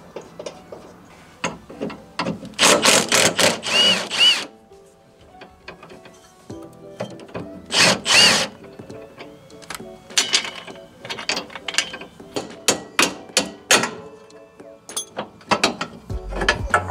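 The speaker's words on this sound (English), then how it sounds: "I'm putting all bolts back where I got them from" Power tool whirring in short bursts as bolts are driven back into a vehicle's rear differential, with two longer runs early on followed by many quick clicking pulses.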